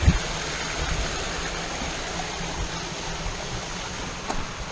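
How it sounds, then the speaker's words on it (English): Waterfalls in a slot canyon at the Big Narrows of Agua Blanca in Los Padres National Forest make a constant rushing roar, with a brief thump at the start. "See the waterfalls."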